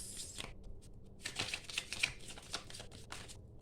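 Tarot cards are shuffled by hand in a soft, papery riffle with quick flicking taps and light clicks, close by but faint, with no talking.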